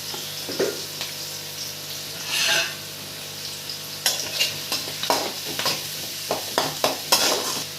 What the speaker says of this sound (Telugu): ఇప్పుడు దీన్ని ఆయిల్లో వేసేద్దాం